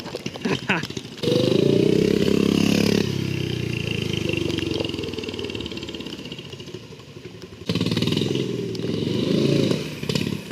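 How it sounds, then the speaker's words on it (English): Turbocharged drift trike engine running loud and close, revving in sustained bursts with a drop to a lower, rougher drone between them, while people talk over it. "I can hear the turbo"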